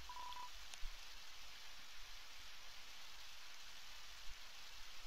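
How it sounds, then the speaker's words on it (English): Rain in the video game Undertale: a quiet, steady hiss of falling rain that runs unbroken, with a short electronic beep near the start and no talking. "Rain."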